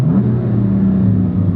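BMW M4 Competition engine running close by, a loud steady low rumble with a mid-pitched drone that holds fairly constant, with no voices.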